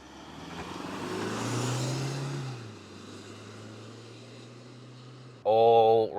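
A 2023 Toyota HiLux Rogue ute driving along, its steady low engine drone and road noise rising then easing, with a sharper burst of mechanical whine near the end.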